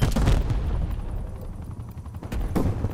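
Rapid bursts of light machine gun fire in Call of Duty: Black Ops Cold War, loud and close, rattling continuously with a few heavier shots at the start and end.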